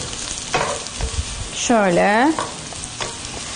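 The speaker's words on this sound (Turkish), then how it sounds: "Hemen şöyle bir deniyorum tekrar kavurmayı." Two large carrots sizzle steadily in a hot pan, sautéed for a meat and carrot rice pilaf, with stirring scrapes and a brief voice partway through.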